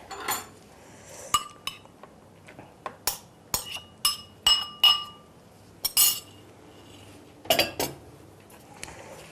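Spoon clinking and scraping against a bowl while a chickpea, lentil and grated carrot patty mixture is stirred, with irregular bursts of sharp metallic taps and pauses between them, close and without talk.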